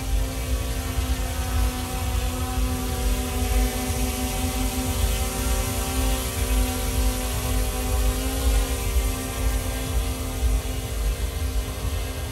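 A DJI Mini 3 Pro drone fitted with a strobe light hovers close by, its propellers producing a loud, steady high-pitched whine with sustained tonal buzzing throughout.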